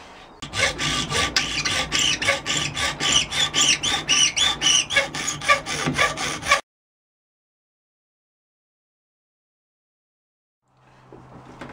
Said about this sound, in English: So the next job is to trim the horn to fit,